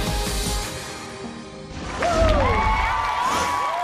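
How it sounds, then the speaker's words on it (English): Two daughters and a crew of San Diego firefighters cheer from a crowd at an American Ninja Warrior qualifying course in Los Angeles, a swelling burst of shouts and whoops rising midway over the arena's steady din. "And there are her 2 daughters cheering her on, along with her fellow firefighters who made the drive from San Diego"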